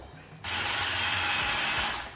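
A drill bit bores into aluminum on a budget turbo build for a cheap Miata, a steady loud high-pitched whine that starts abruptly and holds for about two seconds before easing off.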